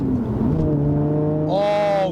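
A Lotus Evora 400 engine revs with its exhaust valve opened by a button, a steady low drone that rises sharply into a louder, brighter rev near the end.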